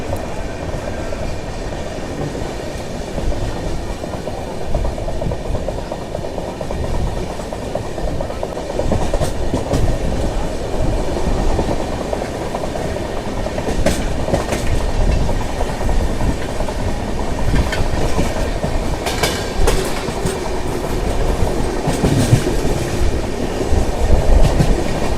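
The Bokaro Express passenger train runs on rails after leaving a station stop, with close, rhythmic clickety-clack over a continuous heavy rumble that holds steady, with no talking.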